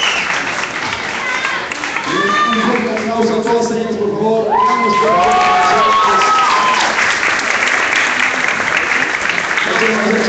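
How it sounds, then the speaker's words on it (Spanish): An audience at a contest claps and cheers for the winners, dense and loud for the whole stretch, with a voice speaking over the applause. "Un fuerte aplauso a todos ellos, por favor."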